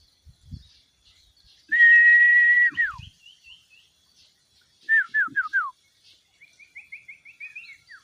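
A Sirtu bird calls in the wild with clear, high whistled notes: a sustained whistle, then a quick series of short descending chirps and a faint trilling run, separated by quiet gaps.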